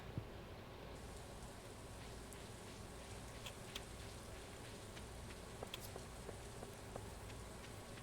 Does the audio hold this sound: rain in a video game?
yes